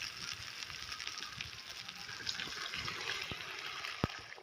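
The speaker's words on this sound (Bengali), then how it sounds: "এবার জল দিয়ে দেব।" Water poured into a pot of potatoes fried with ginger and cumin paste, a steady close gushing, splashing stream over a faint kitchen sizzle, with a brief clink near the end.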